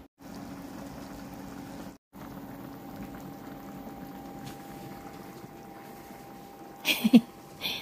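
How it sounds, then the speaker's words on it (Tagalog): A pot of spicy Korean kimchi jjigae army stew boils with a steady, close bubbling simmer that runs almost unbroken, cut by one brief gap and ending with a few louder clinks and knocks. "Actually, pinapakuluan lang namin ito eh."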